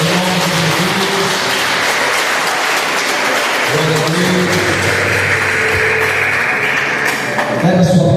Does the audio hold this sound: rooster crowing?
no